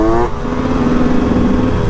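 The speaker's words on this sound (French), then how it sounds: "On va faire chauffer un peu la moto." A 125cc dirt bike engine runs loud and close as it warms up, holding a steady buzzing rev after a brief higher pitch at the start, with no voices.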